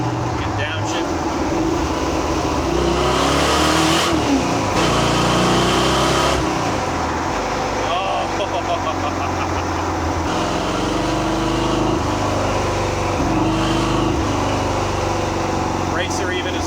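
A 1935 Ford Factory-Five race truck with a 427ci engine rumbles and blips its revs on a downshift, the engine note rising and falling several times under a voice and cabin noise.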